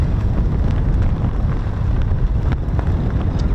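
Strong wind buffets the microphone at an outdoor spot near RAF Lakenheath, giving a loud, continuous low rumbling roar that surges slightly throughout with no clear pauses.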